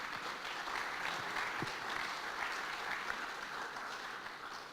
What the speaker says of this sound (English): I would like to invite you to give the round of applause to our wonderful speakers